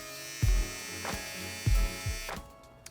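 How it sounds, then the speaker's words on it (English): An electric beard trimmer buzzing steadily while trimming a mustache, close up, its motor hum broken by repeated thumps and clicks as it touches the face, then cutting off near the end. "just using our trimmer."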